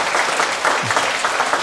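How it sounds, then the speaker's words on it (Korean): Dense, continuous applause from a congregation at a Buddhist Wednesday dharma service, steady and full throughout with no voices over it. "모두 감사의 큰 박수 부탁드리겠습니다."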